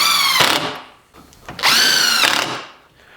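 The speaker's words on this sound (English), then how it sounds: "Let's see how well that multi-material blade works on this. You cut right through it with no problem." An Evolution multi-material track saw cuts through a 2x4 hiding nails, giving two loud, close, sustained bursts of whining blade noise with a quieter gap between them and no talking.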